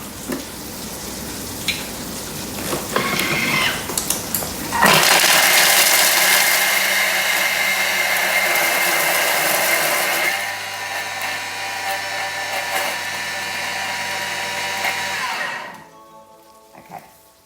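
A Thermomix chops the ingredients for a flourless almond Torta Caprese, starting with a few knocks and clatter before a loud, steady high-speed whir that drops to a lower blending hum and then stops.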